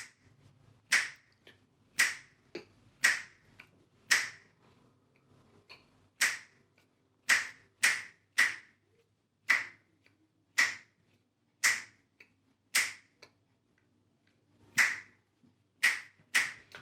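Finger clicks tapping out a simple rhythm, about twenty sharp, close snaps in loose groups with short pauses, heard alone in a quiet room during a music activity with vulnerable young people.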